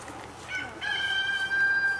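Chickens on a farm cluck and call nearby, a few short bursts followed by a sustained higher crowing-like note, with no talk over them.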